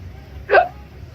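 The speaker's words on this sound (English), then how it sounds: "I got the hiccup." A single person's hiccup, one short sharp burst standing out clearly over a faint low hum of room noise.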